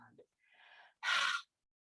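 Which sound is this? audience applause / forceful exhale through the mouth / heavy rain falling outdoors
forceful exhale through the mouth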